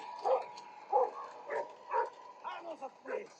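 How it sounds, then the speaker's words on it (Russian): Several barks from a dog in a video game ring out at a roughly regular pace, about six sharp yapping calls spaced half a second apart, fairly close and clear against a quiet background. "Собака, заткнись, собака."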